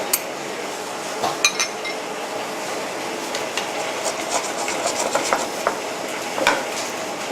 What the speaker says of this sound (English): Remember to keep spooning over because you are actually cooking the top surface when you're doing that.